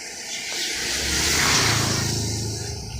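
A car passes along a road, its engine swelling as it nears and then fading away, with steady traffic noise underneath.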